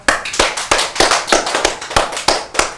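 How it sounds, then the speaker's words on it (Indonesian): A small group claps in a loose, uneven rhythm of about a dozen sharp, close hand claps spread over a few seconds, with no talking. "Tepuk tangan lu semua."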